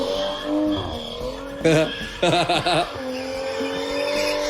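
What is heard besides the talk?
car spinning out with tire squeal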